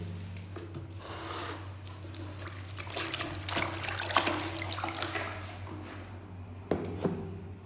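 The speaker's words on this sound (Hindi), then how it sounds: "मैं इसी तरीके से अपने जो कपड़े हैं छोटे मोटे वो ऐसे ही खुद ही धो लेता हूँ।" Clothes being washed by hand in a tub of water, with intermittent sloshing, splashing and squishing of wet fabric over a steady low hum, growing louder in bursts toward the middle and end.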